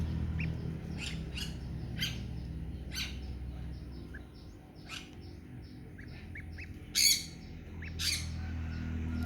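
A grey Chinese goose gosling gives repeated high, thin peeping calls at irregular intervals, close and clear over a low, steady background hum.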